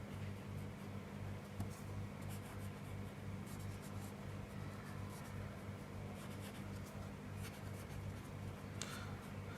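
Pen or marker writing an accounting journal entry for a gaining partner's capital during a commerce lesson, with steady scratchy strokes over a constant low hum of fan or air conditioning, no voice.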